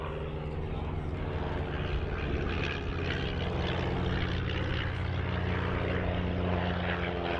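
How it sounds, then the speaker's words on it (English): Vintage de Havilland Chipmunk propeller aircraft displaying at the RAF Cosford air show, a steady buzzing piston-engine drone passing fairly near, with faint talk underneath. "They are the vintage chipmunks."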